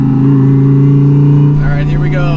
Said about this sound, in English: I'm driving a twin turbo Audi R8.